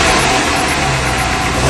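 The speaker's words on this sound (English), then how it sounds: "Engine's still fairly cold. Choke's right off now" A cold Alfa Romeo GTV engine idles with the choke fully off, a loud, steady close-up rumble with a slightly uneven beat.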